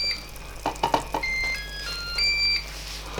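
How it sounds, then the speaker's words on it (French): A Cookeo multicooker cooking rice with mushrooms and chicken breast gives a short series of electronic beeps signalling the end of cooking, then holds a steady tone over faint kitchen background, with no talking. "ça vient de biper"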